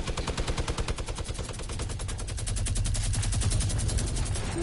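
Sustained rapid-fire video game gunfire rattles loud and close in a dense, even stream of shots that grows slightly heavier midway through, with no voices over it.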